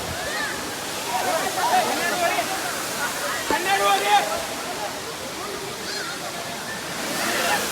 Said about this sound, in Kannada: ಹಿಂಗೈತೆ ನೋಡ್ರಿಪ್ಪ ಸಾತೋಡೆ ಫಾಲ್ಸ್. ನೀರು ಸ್ವಲ್ಪ ಕಡಿಮೆ ಐತಿ